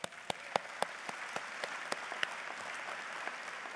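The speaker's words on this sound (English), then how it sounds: "Give yourselves a round of applause." Graduates applauding at a Concordia University, St. Paul commencement ceremony, a broad sustained wash of clapping from a large crowd with sharper individual claps standing out up front.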